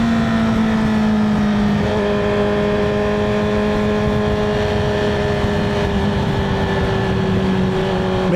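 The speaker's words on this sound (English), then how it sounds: "My bike sounds louder than normal today." A motorcycle engine drones loud and close while riding through city traffic in Memphis on a chilly afternoon, a steady hum with a slowly shifting pitch and no break for the whole stretch, with no voices heard.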